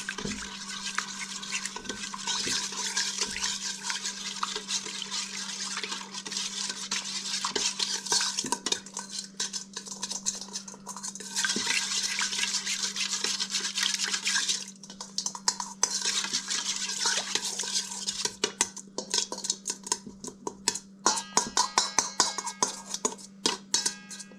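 Salt and sugar being mixed together for cinnamon roll dough, a utensil stirring and scraping in a bowl with rapid rhythmic clinks and rasps, close and continuous for the whole stretch.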